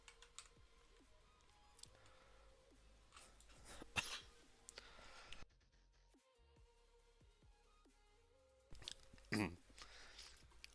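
A person coughs a few times, in two loud, harsh bursts several seconds apart, with soft computer keyboard typing and clicks between them during a quiet gaming session.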